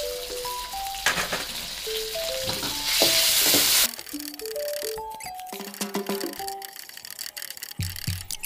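Squid tossed with dried chilies in a hot pan for Thai stir-fried basil squid, with steady sizzling and scraping stir strokes throughout, loud and close, and a burst of hiss near the middle; no one talks.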